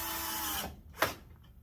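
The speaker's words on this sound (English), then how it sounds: "Always run your drill in low speed when you're doing this" A drill running at low speed drives 1.5-inch square-drive, coarse-thread pocket hole screws into a kitchen island back panel. A steady whir lasts about half a second and stops, followed by one sharp click and quiet.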